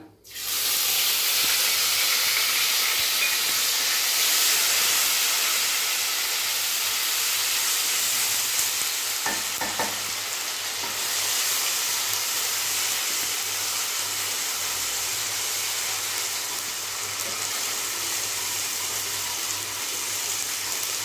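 Garlic, ginger and green chili paste hits hot oil and sizzles loudly and steadily for about twenty seconds, a dense, even hiss with no talking over it.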